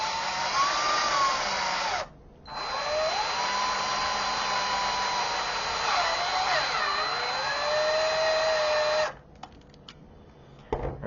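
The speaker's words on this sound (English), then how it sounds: "And we're going to now screw in these 20 mil." Power screwdriver driving 20 mm screws into a flight grip assembly: two loud, steady whirring runs separated by a brief pause, with the motor's whine shifting in pitch as each screw seats, then stopping.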